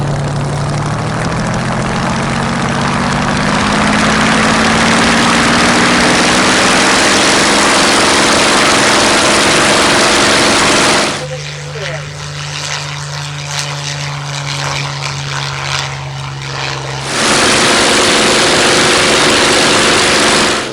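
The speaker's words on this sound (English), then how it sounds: "Now let's listen to the sound of this Spitfire on takeoff." Supermarine Spitfire engine at takeoff, a loud continuous propeller roar that climbs steadily in pitch, then a stretch of altered, muffled drone before the full roar returns.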